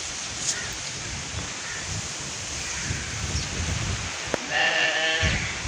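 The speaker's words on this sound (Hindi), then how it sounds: "बकरी के बच्चे हैं" Against a steady outdoor hiss, a young goat kid bleats briefly near the end, with faint rustling throughout, at a village house in Pakistan.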